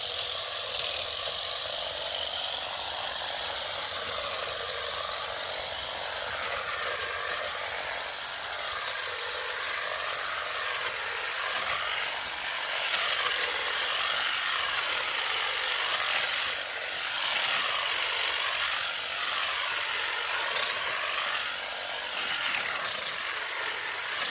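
Battery-powered Ryobi 18 volt Hedgesweep running steadily outdoors while cutting small branches, a sustained buzzing whine with rising and falling sweeps as the cutting head swings through brush.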